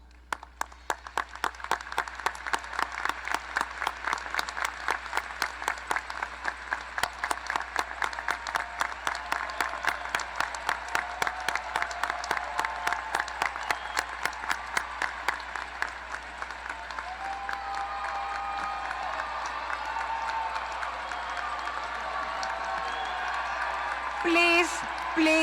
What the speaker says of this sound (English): Let's stand, graduates, and thank them with a big round of applause.